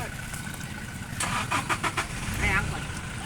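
An old-model engine in Nong Bua, Kosum Phisai, Maha Sarakham cranks in a quick series of pulses, then catches and revs loudly nearby, over background voices.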